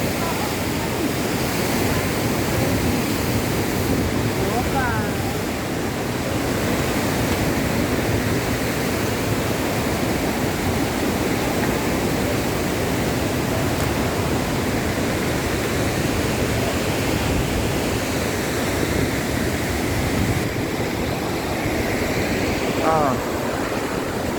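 Rushing water pours over Wawa Dam in Rodriguez, Rizal in a broad, constant roar, with people speaking faintly beneath it.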